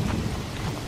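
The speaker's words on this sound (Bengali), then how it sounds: "অন্ধকারে চারিদিক শুধু বৃষ্টি পড়ার আওয়াজ" Rain and thunder effects for a cartoon night scene over a paddy field: a dense, steady rain wash with low rumbling thunder underneath, short and continuous at an even volume, with no voices.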